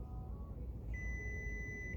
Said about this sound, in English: Like you hear the machines beeping.